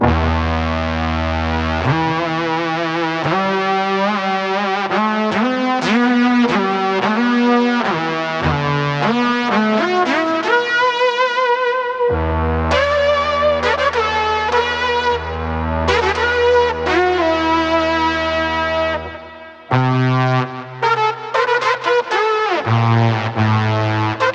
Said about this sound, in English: we've also modelled our classic GR300, which is like the kind of iconic vintage Roland synth